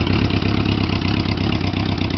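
A 1973 Honda CB550 motorcycle built as a bobber idles roughly and unevenly, a loud, close and continuous engine chug with no talk over it.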